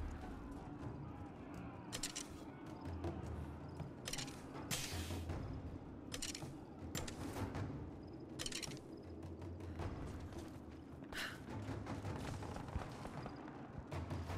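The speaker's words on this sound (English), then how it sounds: "I can hear the gunfire, I can't see anyone." Distant gunfire in the video game Rise of the Tomb Raider, scattered sharp bursts rising over a steady rumbling ambient bed throughout.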